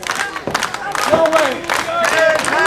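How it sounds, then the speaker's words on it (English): Wrestling crowd at a ring event clapping to rally Quintero, caught in a reverse chinlock, with scattered claps and crowd noise under an excited commentator's voice. "The fans clapping it up for Quintero to get up"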